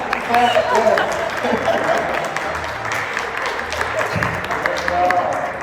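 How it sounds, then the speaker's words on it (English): An audience at a tech conference panel claps, a moderate crackle of applause with voices talking over it and brief tonal sounds mixed in. "Yes, clap."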